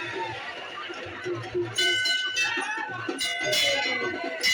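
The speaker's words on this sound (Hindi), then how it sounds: "बच्चे लोग एकदम से घंटियाँ बजा रहे थे।" Many large temple bells clang and ring repeatedly in bursts, rung by children at a Kolkata Durga Puja pandal, over a busy crowd murmur with people talking nearby.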